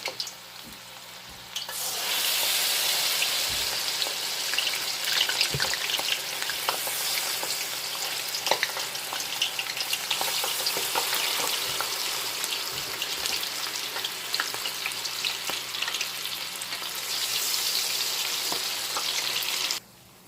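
Nigerian akara bean fritters fry in hot oil with a steady, loud sizzle that holds for about eighteen seconds, broken by a few faint scrapes and clinks of a utensil.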